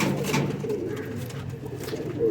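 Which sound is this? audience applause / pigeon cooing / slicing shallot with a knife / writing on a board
pigeon cooing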